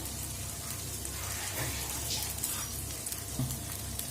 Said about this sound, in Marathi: इथे मी आंबोळी घालून घेतली आहे तव्यामध्ये आता याला एक दोन मिनिट या साईडनी भाजून घ्यायची आहे